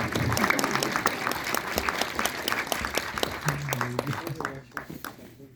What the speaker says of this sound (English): A special round of applause for her.